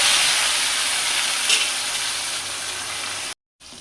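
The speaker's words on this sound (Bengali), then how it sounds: "প্রথমে মাছটা আমি ভেজে নেব।" Koi fish frying in a pan of oil, giving a steady, close hiss and sizzle that runs nearly unbroken before a brief cutoff.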